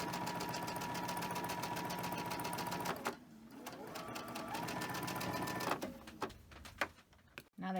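A domestic sewing machine stitching strips onto a quilt block, a fast steady mechanical whir that runs for about three seconds, pauses, then resumes in shorter bursts with handling clicks and thumps near the end.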